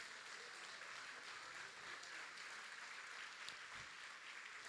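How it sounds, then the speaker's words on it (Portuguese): A church congregation applauding, a faint, even wash of clapping that stays distant and steady without speech over it. "Pode se assentar e pode aplaudir a Jesus"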